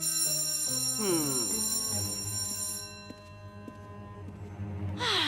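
A school bell rings loudly, its bright electronic tones sustaining before fading, then a fresh burst of ringing returns at the end.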